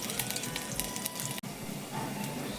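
Garlic and chopped ginger sizzle steadily in hot oil, a dense, continuous crackling hiss that holds close and fairly loud throughout, with one momentary dropout partway through.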